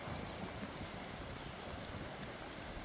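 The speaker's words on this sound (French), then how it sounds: "Pluie, vent, gros bordel" Wind and rain in a moderate thunderstorm with strong gusts in Isère: an unbroken loud rushing roar of rain and wind noise buffeting the microphone, steady for the whole stretch with no voices.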